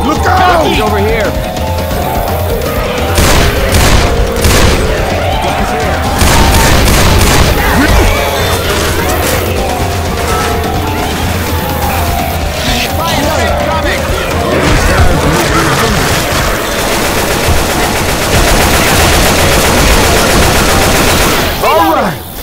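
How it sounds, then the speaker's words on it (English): In Left 4 Dead 2, a pipe bomb blast and loud bursts of rapid automatic gunfire go off amid constant chaotic combat sounds, with players shouting over the din. "Throw the pipe bomb."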